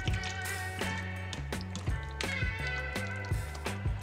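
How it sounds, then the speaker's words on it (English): Mayonnaise, crème fraîche, sour cream, Dijon mustard, dill and shrimp are stirred together in a bowl for Swedish toast skagen, making repeated wet squishing and slapping strokes in a steady rhythm, close and alone. "Mix the ingredients thoroughly."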